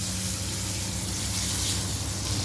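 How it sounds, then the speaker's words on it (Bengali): Shrimp frying in chopped onions in a pan, giving a steady, dense, close hiss of sizzling oil that runs unbroken throughout with no voices. "এই পেঁয়াজের মধ্যেই চিংড়ি মাছ ছেড়ে দিব। সুন্দর করে ভেজে নিব।"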